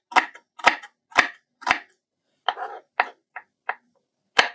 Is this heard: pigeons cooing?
no